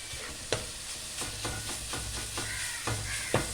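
Ginger paste fries in a pan with a soft, steady sizzle, and a utensil scrapes and stirs it at intervals. The sound is close but fairly quiet.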